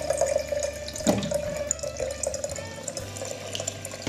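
Tap water runs into a cezve for brewing coffee, a continuous trickling fill with a brief splash about a second in, heard close in a quiet kitchen.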